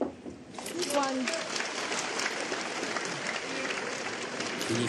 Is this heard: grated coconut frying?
no